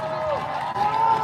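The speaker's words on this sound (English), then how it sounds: "Let's give a big round of applause to Rocky." A crowd at a protest outside the Phoenix capitol building cheers and claps, a brief burst of applause mixed with whoops and voices.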